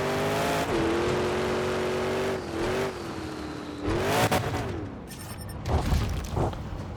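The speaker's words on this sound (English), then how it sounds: "But the sound of the truck that the truck makes is really good." A monster truck engine in the game Monster Jam Showdown roars continuously, its pitch sagging and climbing, followed by loud crashing impacts and rumbling thuds as it lands on tankers toward the end.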